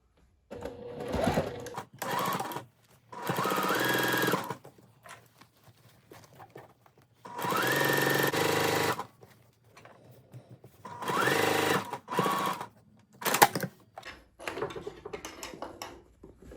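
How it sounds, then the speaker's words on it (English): A sewing machine stitches a half-inch seam along a shorts waistband, running in several bursts of steady mechanical whirring separated by short pauses. "Got my waistband on top, and I'm going to sew it 1/2 inch."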